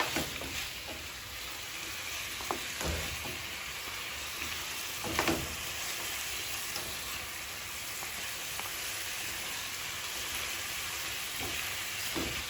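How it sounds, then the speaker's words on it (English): Steady sizzling of chicken frying in a pot for Jamaican brown stew chicken, a constant crackling hiss with a few scattered pops and clinks, no talking. "I want to hear some frying up going on there."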